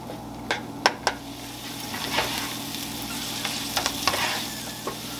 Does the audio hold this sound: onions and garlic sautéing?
yes